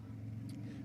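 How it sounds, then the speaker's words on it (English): Race car engine at the Portimão circuit during a winter series race, heard as a steady, loud low rumble from a car running close behind, with no speech over it. "he's in the car behind us, giving us quite a lot of noise at the moment."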